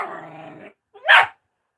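A dog lets out a harmonic whining growl, then after a brief pause gives a single sharp bark, close and loud.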